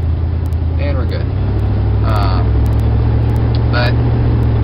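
Inside a 1970 Cadillac Sedan DeVille with no sound deadener in the trunk, a steady low road and engine drone fills the cabin while driving, with someone talking over it.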